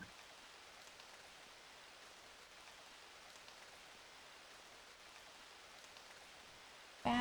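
Steady, even rain hiss fills the scene in the Ace Attorney Investigations game, a constant wash of falling water with no distinct drops standing out, moderately quiet and unbroken throughout.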